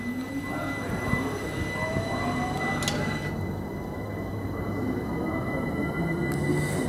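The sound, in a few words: London Overground electric train departing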